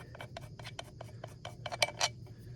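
Metal bolt being screwed by hand into a hunting tree arm mount, a quick series of small scraping, rasping turns, close and fairly quiet, with a couple of brighter metallic clicks near the end.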